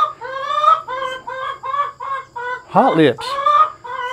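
Chickens cluck in a roosting coop, a run of repeated harmonic clucks with a louder squawk near the middle, close and clear, while a person speaks briefly.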